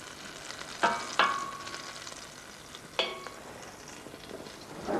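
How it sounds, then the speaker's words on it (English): Spinach fries and sizzles in a pan with a steady soft hiss, broken by a few sharp scrapes and clinks of a utensil stirring against the pan. "Don't forget to stir the spinach as it cooks."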